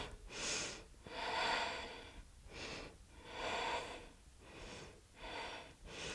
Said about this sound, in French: Restez dans cette posture. Quelques respirations.